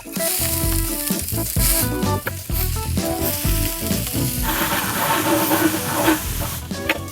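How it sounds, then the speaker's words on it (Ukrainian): Onions sizzle loudly in hot oil in a large pan over a fierce fire, a dense continuous crackle with stirring clatter throughout, close and with no talk. "відправляємо нашу цибульку до олійки"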